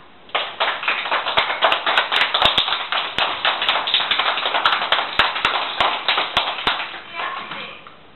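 Kindergarten children clapping together over a Skype call, a dense, steady patter of many hands lasting several seconds, heard through thin, bandwidth-limited call audio.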